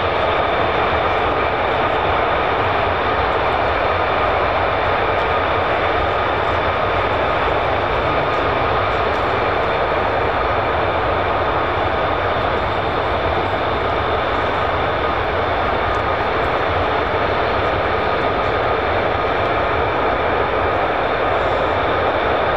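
A fighter jet, an F-15 or F-35, roars steadily through a performance takeoff, a loud continuous engine rumble and hiss that holds level throughout with no talk over it.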